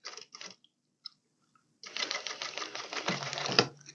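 A sewing machine stitches along the edge of cut fabric flaps for a tailored women's waistcoat, starting with a few short bursts and pauses, then running in a steady, close, rattling stitch for about two seconds.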